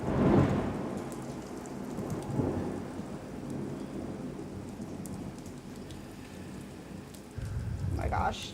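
Rain falls steadily throughout during a thunderstorm, with low thunder rumbling near the start and again at the end, heard around a pottery wheel session.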